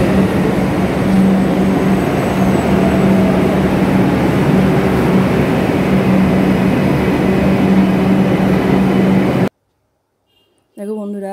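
Inside a moving metro train in Kolkata, a loud, steady rumble with a low hum runs unbroken for several seconds, then cuts off abruptly before a short stretch of voice.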